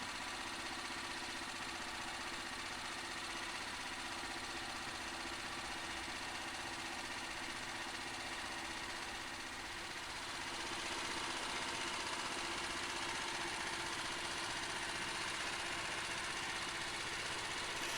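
A sawmill engine idles at an off-grid cabin site while cedar boards are milled, a faint, steady, even drone holding for the whole stretch with no voices.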